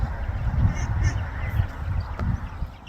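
Geese honk near a chicken pen on a farm in a run of repeated nasal calls at moderate distance over a steady outdoor rumble.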